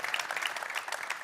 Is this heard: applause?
yes